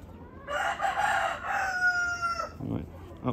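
A Wyandotte bantam rooster crows loud and close among hens, one long harmonic call followed by short clucks, with light background noise.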